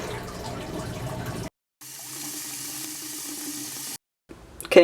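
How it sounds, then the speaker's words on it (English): Tap water runs steadily into a bucket being filled for an aquarium water change, a continuous hissing splash close by, broken by two brief pauses where the flow stops. "now that you got your bucket full of water here"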